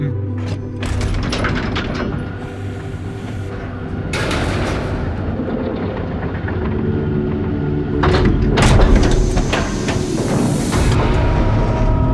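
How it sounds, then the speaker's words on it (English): A sci-fi sliding door closes with a whooshing mechanical slide and thump, set within a dense, loud soundscape of layered effects and music from a tabletop role-playing game podcast. "and walk on board, the door closes up."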